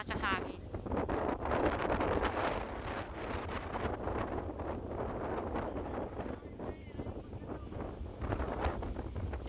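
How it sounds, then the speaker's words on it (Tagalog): Strong wind at the seashore buffets the microphone in a constant loud roar with gusty surges, while a voice talks throughout. "Siyempre malakas ang hangin."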